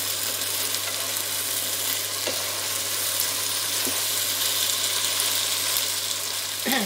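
Kidneys frying in a pan for a sauce, giving a steady dense sizzle with occasional soft stirring scrapes, close and continuous without voices.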